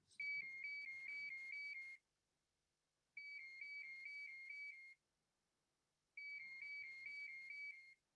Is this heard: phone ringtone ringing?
yes